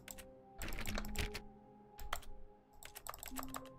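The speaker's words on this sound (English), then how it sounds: "Oh right, he makes typing sounds." Keyboard typing in the game The Stanley Parable Ultra Deluxe, quick clusters of close, crisp keystrokes in irregular bursts separated by short pauses.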